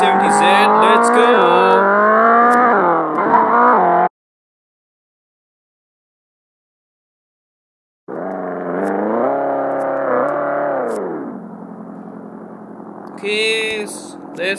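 A Nissan 370Z engine in Extreme Car Driving Simulator revs hard and climbs through gears with a loud, rising tone. The sound cuts to silence for a few seconds, then the engine roars again and settles, with a short tire squeal near the end.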